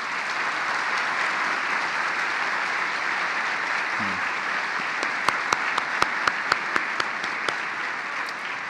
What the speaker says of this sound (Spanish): ¿Por qué no les damos un amoroso aplauso a estas personas?